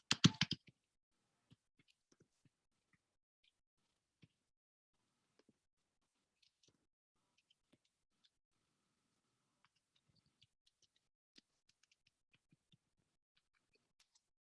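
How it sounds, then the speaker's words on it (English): A server name typed on a computer keyboard: a quick cluster of crisp keystrokes at the start, then sparse, faint clicks scattered over near silence. "We'll type in our server as usual."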